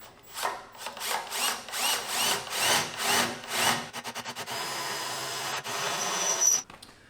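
A power drill whirs in repeated short bursts, then runs steadily with a high whine as the bit grinds through material on a John Deere 930M mower, close up.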